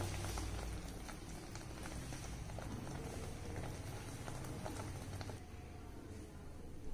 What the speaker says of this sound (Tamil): இது நல்லா மிதமான சூட்ல கொதிச்சு வரட்டும்.